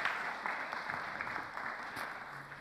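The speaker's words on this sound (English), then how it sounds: "give them a clap, well done" A church congregation at a Sunday all-age communion service claps briefly, a soft, fairly distant patter of hands that stays faint and even.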